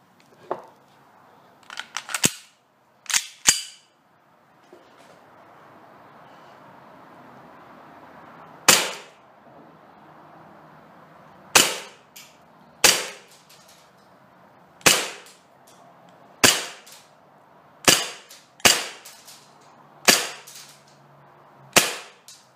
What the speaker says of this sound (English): The shooting test will be using Elite Force .25 gram BBs from an approximate distance of about 35 feet.